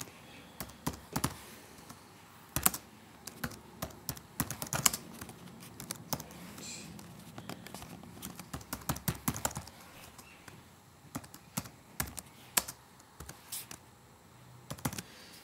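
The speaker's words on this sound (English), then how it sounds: "the cursor is already positioned in the first label, ready for you to start typing away" Someone types an address into a label template on a computer keyboard: irregular bursts of close, crisp keystrokes with short pauses between words, and no voices.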